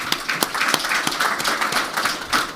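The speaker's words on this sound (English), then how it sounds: "Could we welcome her with a warm applause?" Audience applause welcoming a speaker at a Davos 2024 economic forum session, a steady patter of hand claps from a seated crowd at moderate loudness, without a break.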